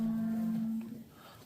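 A cow in a corral lets out a low, steady moo that holds for most of a second and then tails off, fairly near and moderately loud, with faint background noise.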